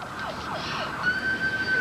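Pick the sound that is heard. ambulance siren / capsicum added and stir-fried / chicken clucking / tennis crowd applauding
ambulance siren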